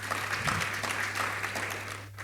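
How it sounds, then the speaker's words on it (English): A conference audience at a performance-management panel claps briefly for a speaker, a short scatter of hand claps over a steady low electrical hum. "Please, a round of applause for him."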